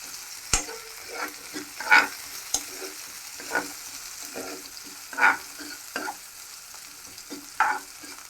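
Onions sauté in oil in a pan for a dal khichdi, a steady soft sizzle broken by repeated scraping stirs of a spatula every second or so, close and fairly quiet.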